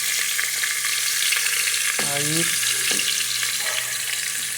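Pork cracklings frying in oil in a pan on a stove run without gas, being stirred, with a steady loud sizzle throughout and a brief spoken word partway through.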